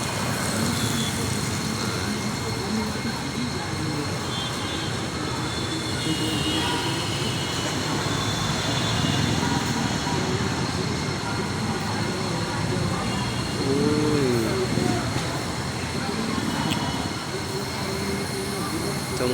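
An LRT light rail train rumbles past at Recto, Manila, a broad, continuous roar with squealing wheel tones rising near the middle, set within busy city noise.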